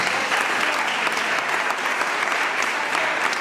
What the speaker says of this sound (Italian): a cui va un applauso